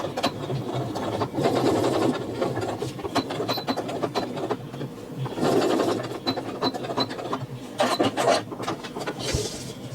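A sewing machine stitching back and forth: bursts of rapid mechanical whirring and clattering, close and moderately loud, pausing between runs, with no one talking.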